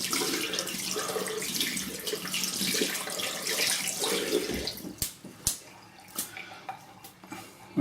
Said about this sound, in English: Get some warm water into the sink.